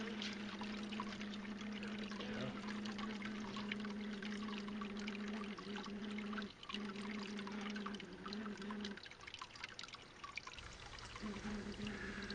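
Steady water running and pouring during urban gold prospecting, a continuous rushing trickle that briefly dips and changes flow a few times throughout.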